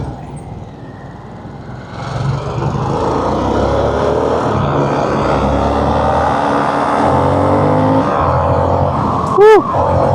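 A Harley-Davidson Sportster S 1250 motorcycle accelerates in traffic with a loud, steady engine drone that builds and holds for about eight seconds, and a brief sharper burst comes near the end.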